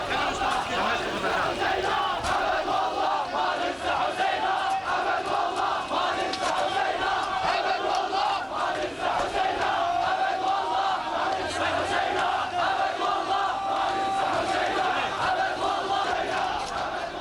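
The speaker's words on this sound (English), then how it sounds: "The crowd is chanting many things." Large Iraqi crowd chanting against Saddam Hussein, a dense continuous roar of massed voices shouting slogans in unison, loud and sustained throughout.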